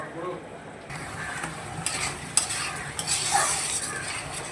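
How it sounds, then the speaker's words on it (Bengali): Masala is stir-fried in a pan, with a close, steady sizzle under repeated scraping and stirring strokes of a utensil against the metal. "যতক্ষণ এই মশলাটা কষা হচ্ছে"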